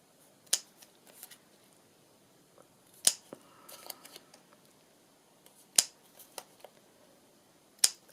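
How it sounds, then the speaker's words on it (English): Scissors snip the corners of a handmade paper bag journal, four sharp, crisp cuts spaced a few seconds apart with faint paper rustling between them, close and quiet. "Rachel Styly, I'm going to snip the corners."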